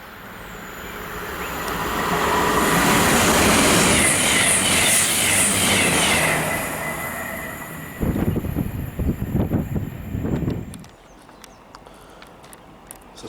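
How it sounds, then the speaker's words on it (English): A train on the late-running 6:48 service to Carlisle rolls into a station in northern England, its rumble swelling and then fading, wheels squealing high overhead before rhythmic clicking as it slows to a stop. "Here's my train, the late running 6:48 to Carlisle."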